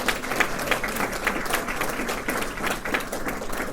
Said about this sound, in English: I'd like to do a round of applause for that